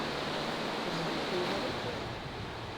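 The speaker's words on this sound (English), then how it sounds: "And the beautiful sound of the river just flowing through the valley." A river rushing through a jungle valley near Mackay in Australia, a steady broadband wash of flowing water, close and fairly loud, with no distinct events.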